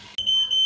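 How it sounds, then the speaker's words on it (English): A smoke alarm sounds after food was burnt, its steady piercing electronic tone starting abruptly and holding loud and continuous to the end. "Someone turn the alarm off."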